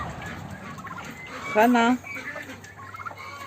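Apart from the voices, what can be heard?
turkey gobbling during fight with rooster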